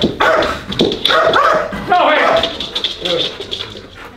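A dog barks loudly and repeatedly during protection-dog training at a firearms range, the barks mixed with people talking close by and dense background noise throughout.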